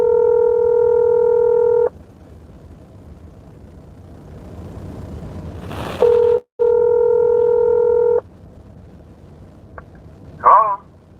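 Telephone call being placed: a steady dial tone sounds, cuts off, then resumes after a brief dialing pause, followed by a short chirping tone as the line connects.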